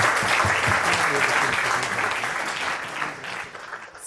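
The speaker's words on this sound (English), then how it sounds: "And give a round of applause." Wedding guests applaud the couple in a dense, loud wave of clapping that runs steadily, then thins and fades slightly toward the end.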